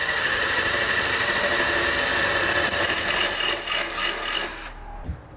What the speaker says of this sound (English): And then I'm gonna drill out the remaining 3 holes that's located on each side.